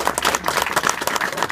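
A short burst of audience clapping at an Equity Law Chambers event, brisk and fairly close, with no talk over it.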